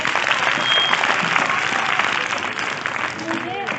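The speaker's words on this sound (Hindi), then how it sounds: "सभी बच्चे ताली बजाओ एक बार।" A room of schoolchildren claps together at a school youth program, a sustained, fairly loud burst of many small hands with a faint voice or two mixed in, fading slightly toward the end.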